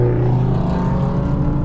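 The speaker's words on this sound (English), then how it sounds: "that sound right there was an X6M riding right by us." BMW X6M driving past, heard from inside a Mercedes AMG GTC on the road as a steady, loud low engine rumble that stays even throughout without voices.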